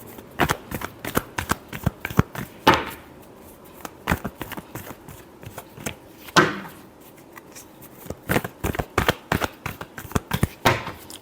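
Tarot cards being shuffled by hand, close and crisp, in rapid bursts of riffling flicks with brief pauses between rounds and a couple of louder slaps; no voices.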